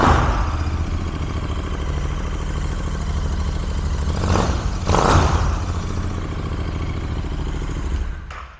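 A Royal Enfield Continental GT 650 motorcycle engine idles steadily while cold, then rises in two brief, light revs before settling back, with a short clatter near the end.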